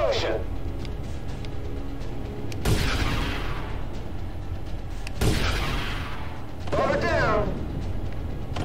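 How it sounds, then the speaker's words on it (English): An explosion booms during space combat in the video game Space Commander War and Trade, several heavy crashing blasts over a dense, continuous battle rumble, loud and close, with voices talking throughout. "what an explosion!"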